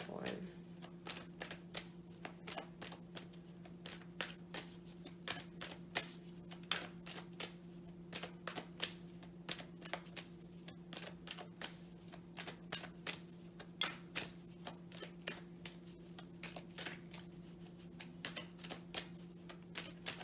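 Oracle cards being shuffled by hand, a long run of quick, crisp riffling clicks and flutters, close and fairly quiet over a steady low background hum, with no talk.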